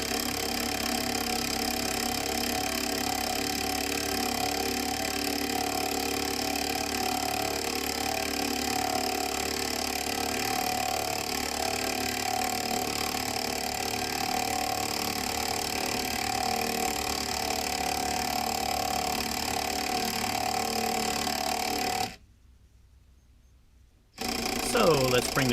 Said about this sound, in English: This is an 18-volt impact driver. As you can see, it will lift the car,